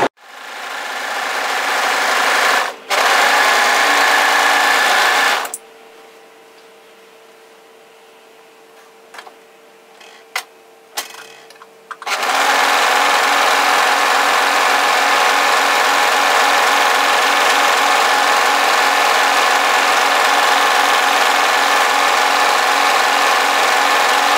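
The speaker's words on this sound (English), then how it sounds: "overlock the raw edge, turn it up, and then stitch it with 2 lines of plain stitching" Domestic sewing machine and overlocker stitching knit fabric for a two-fabric tee, a loud steady mechanical whir running continuously, broken by a quieter pause with a few faint clicks before the stitching resumes.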